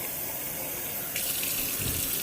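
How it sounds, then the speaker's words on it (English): Water running from a tap into a blender cup, a steady close gush that brightens and grows fuller partway through as the cup fills. "I'm going to put the water on"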